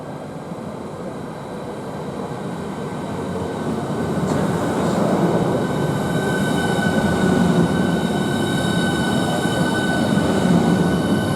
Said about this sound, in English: coming out of the tunnel, is another Class 395 Javelin